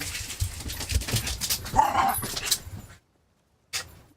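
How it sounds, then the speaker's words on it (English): Dogs barking indoors over roughly three seconds, a run of close yaps and barks, then a brief silence before one more short bark. "If you go sit down there, stop barking."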